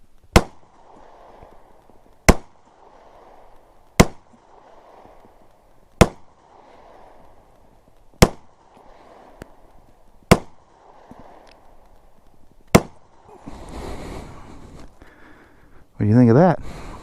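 Seven sharp .45 ACP pistol shots ring out outdoors at regular intervals of about two seconds, each a loud crack with a short echoing tail, followed by rustling handling noise and a brief burst of sound at the end.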